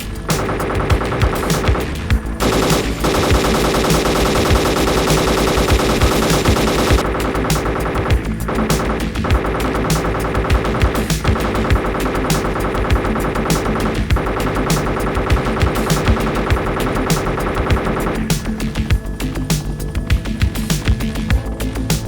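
Rapid, loud helicopter cannon fire aimed at a tank in the Arma 2 combat game, sustained bursts of automatic gunfire with brief pauses between volleys and no talk.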